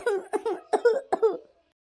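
A woman with a cold and fever coughs in a quick run of about five harsh, close bursts over a second and a half, then goes silent.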